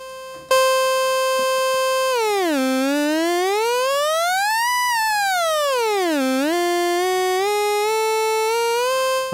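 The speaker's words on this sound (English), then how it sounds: "oscillator is the part of the synthesizer that generates the actual basis signal or basic signal" An Ableton synthesizer oscillator plays a bright, steady harmonic tone that sweeps down, glides up to a peak and back down, then settles on its starting pitch, heard alone and at a constant loudness.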